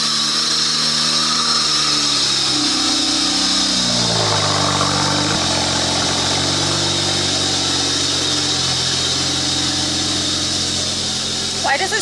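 Running engine of a BMW E92 335is with a bad belt or pulley, a loud constant whining, grinding drone with a shifting tonal whir mid-clip; no talk over it.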